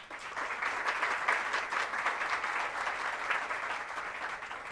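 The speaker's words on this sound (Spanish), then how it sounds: "Fuerte aplauso para ellos." An audience at the launch of a national oratory contest applauds, with steady, dense clapping from a sizable crowd that holds evenly for about five seconds.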